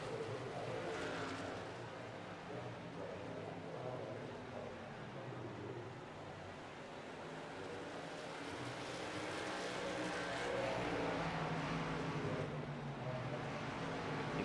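Race cars roaring around a track during a Performance Racing League round at IRP, engines droning steadily at a distance with a swelling pass toward the end and no talk.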